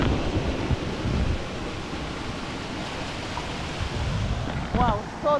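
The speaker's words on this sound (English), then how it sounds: "so the river is flowing going this side" A forest river rushes steadily in a dense, broad wash of water noise that fills the whole stretch, with a few faint voices underneath.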